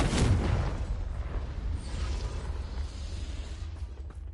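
A Confringo blasting spell explodes in the Hogwarts Legacy game, a loud booming burst up front that rumbles on and slowly fades, with no voices.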